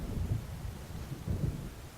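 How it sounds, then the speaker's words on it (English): Low thunder rumbling from an approaching storm in the video game Alan Wake, a faint, distant rolling with two swells amid soft wind and rain noise. "It seems there's a storm coming."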